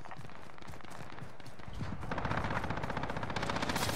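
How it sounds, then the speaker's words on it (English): M60 machine gun fire in the video game Warzone comes as rapid, rattling bursts that grow louder and denser in the second half, over busy game background noise. "Just mauling you with the M60"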